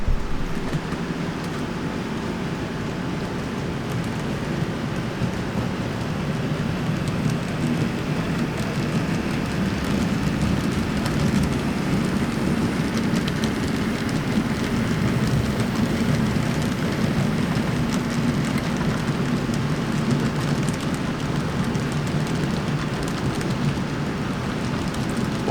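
Steady low rumble and clatter of N scale model freight trains rolling past continuously on a layout, a constant mechanical drone with no talking.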